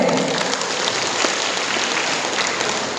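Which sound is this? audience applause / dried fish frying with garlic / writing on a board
audience applause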